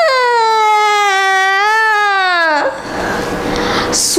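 A voice imitating a small child's crying during a school storytelling performance, a loud, drawn-out wailing tone sliding in pitch for about two and a half seconds, then giving way to breathy noise.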